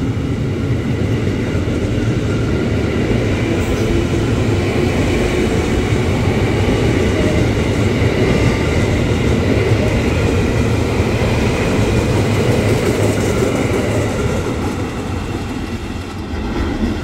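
A KRL Commuter Line train entering Manggarai station rumbles steadily with a continuous low roar and rail noise, sustained and fairly loud throughout, easing slightly near the end.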